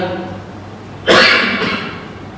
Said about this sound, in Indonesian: maaf ini saya lagi batuk